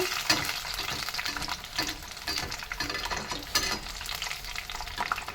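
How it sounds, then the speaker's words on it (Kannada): Bread pakoda pieces deep-fry in hot oil with a dense, continuous close-up crackle and bubbling, plus occasional louder pops and stirring noises, with no speech over it. "ಅದೇ ಥರ ಚೆನ್ನಾಗಿ ಇದನ್ನು ಕಾಯಿಸ್ಕೋಬೇಕು ಎಣ್ಣೆಯಲ್ಲಿ"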